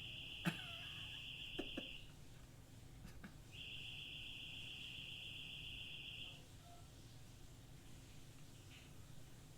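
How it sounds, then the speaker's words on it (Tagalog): A church alarm system sounds in two long steady electronic tones, a few seconds each with a pause between, over quiet background hiss. "ayan, tumunog na po yung aming alarm system."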